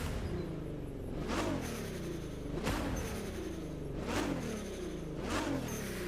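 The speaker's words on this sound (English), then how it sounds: "just go do a quick demonstration on the exhaust sounds, because the backfire sounds slightly different compared to what we have in the Motorfest" A car's exhaust in the racing video game The Crew 2 drones steadily with rhythmic swelling whooshes roughly every second and a half, like repeated passes, with no talking.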